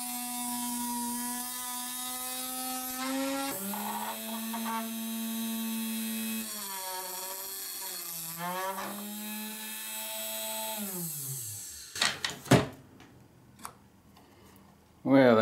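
A Dremel tool mounted in a routing table works on carbide tool blanks in a metal shop. It gives a steady high whine that shifts pitch as it loads and unloads, then ends in several sharp bursts of clatter.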